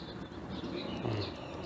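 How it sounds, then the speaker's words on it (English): A mother bird calls near her fledgling that has just left the nest, giving thin, high chirping notes outdoors over a constant rough background wash. "there's Chirpy's mama right there. Yelling at me and stuff"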